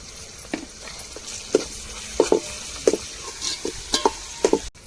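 Ginger garlic paste frying in a pan for quail biryani, crackling and sizzling under a steady hiss, broken by several soft stirring scrapes spread through the stretch, with no one speaking.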